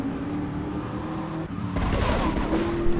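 Car engine droning in the video game GTA 3, a steady mid-level hum that swells louder and rougher partway through, with a brief dip before it.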